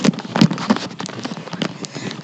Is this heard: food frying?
no